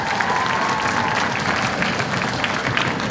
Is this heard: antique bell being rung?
no